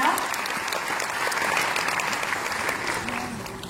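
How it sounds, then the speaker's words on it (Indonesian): A church congregation at an Indonesian service claps in steady, dense applause that runs the whole time at an even, moderately loud level. "Kita tepuk tangan sekali lagi untuk kita."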